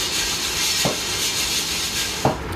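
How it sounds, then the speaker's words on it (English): Steady airy whoosh of a fan cooling freshly roasted coffee beans from a popcorn popper in a cooler tray, with two brief knocks or clatters from the beans being agitated; no voices. "turn on the fan, and begin agitating the beans"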